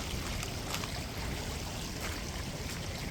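Soft, steady trickle of a small stream crossing a hiking trail in the Ozarks, a faint continuous babble of shallow running water with no talking.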